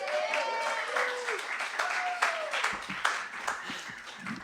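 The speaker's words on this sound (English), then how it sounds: "Give him a round of applause." Applause from a small audience at a bookstore staff reading, moderate clapping that continues alongside faint tonal sounds and some background voices.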